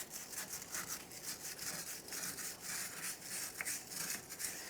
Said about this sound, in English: I'm going to use a wire brush and some parts cleaner.